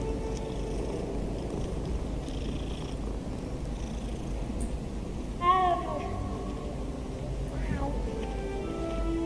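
A cat in the video game Hogwarts Legacy gives a short meow and a later brief mew over a steady low hum of game ambience, faint and mid-distance.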